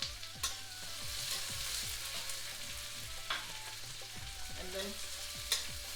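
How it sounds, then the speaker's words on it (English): Ginger, garlic and green chilies frying in a pan for a cottage cheese kofta curry, a soft steady sizzle with a few sharp stirring clicks over a low background hum, with a voice speaking briefly. "fry that for say 2 minutes"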